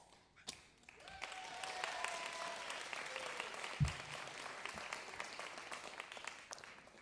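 An audience at the WoodSongs Kids show claps steadily for about six seconds after a soft start, a dense, even patter of many hands that stops abruptly at the end.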